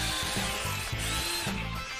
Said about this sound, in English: Secure the two pieces of metal to be joined tightly together and drill a hole through both layers.